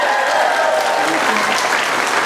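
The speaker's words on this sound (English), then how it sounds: "Round of applause, please." Audience applause fills a convention panel hall at RetroGameCon, a steady dense clapping from a large crowd that holds loud and even throughout without a break.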